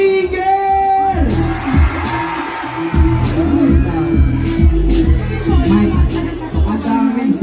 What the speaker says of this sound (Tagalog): Sumigaw lahat ng single!